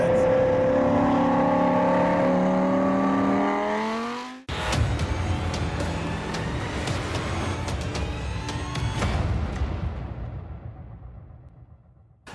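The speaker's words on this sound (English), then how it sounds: "today, for the first time, I'm going to hear my car on the road driving" Lamborghini supercar fitted with an Armytrix exhaust, first a loud revving drone with rising pitch, then an abrupt cut to rumbling road and exhaust noise with crackles that fades away toward the end.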